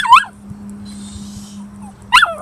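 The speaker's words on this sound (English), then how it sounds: "My dog likes to make this noise." A pet dog whimpers and yips in short, high-pitched bursts at the start and end, close and clear, with a low steady hum and a brief faint whine between them.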